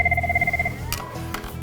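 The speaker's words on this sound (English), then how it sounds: "we got a phone call" An office telephone at a county animal care and control shelter rings with a rapid electronic trill that stops partway, followed by faint room noise.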